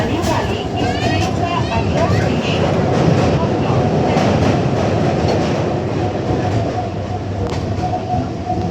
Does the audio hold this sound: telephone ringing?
no